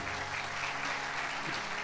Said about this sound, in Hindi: मैं चाहूँगा आप ज़ोरदार तालियों से उनकी इज्जत अफजाई करें।